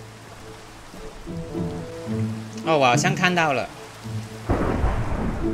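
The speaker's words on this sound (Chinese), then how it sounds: "走着走着都下雨了呀。" Rain falls steadily in the video game Minecraft with a low thunder rumble, while someone talks over it midway before a heavier burst of rain noise.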